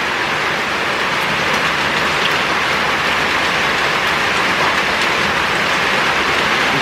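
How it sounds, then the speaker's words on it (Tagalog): Heavy rain pours steadily over a house during a multi-day storm and power blackout, a dense, loud, unbroken hiss with no voices. "Yan, lumakas yung ulan."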